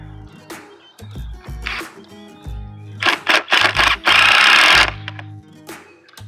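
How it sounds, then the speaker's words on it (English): A power drill drives screws diagonally into PVC pipe, giving a few short whirring bursts followed by a longer, loud sustained run, with scattered plastic clicks and knocks in between. "make sure that you're screwing diagonally down"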